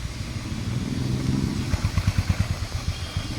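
A motorcycle being ridden at low speed, its engine running steadily and close by with a rhythmic, pulsing throb that grows more pronounced in the second half.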